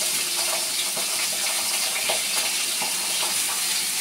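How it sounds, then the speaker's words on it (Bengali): Ginger, garlic and cumin paste dropped into hot oil in a frying pan, giving a steady, dense sizzle with faint stirring taps throughout, close and fairly loud with no voices. "এখন আদা বাটা রসুন বাটা জিরা বাটা দিয়ে দিব।"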